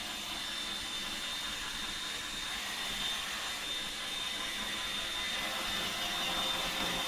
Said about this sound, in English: I haven't even seen the Roomba go in circles